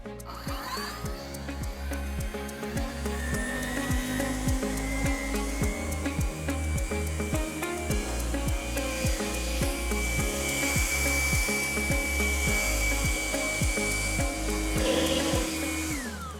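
A battery-powered Cobra LB55040VX leaf blower runs steadily and close for the whole stretch, a loud continuous whirring drone whose pitch rises slightly as it spins up, with no talk.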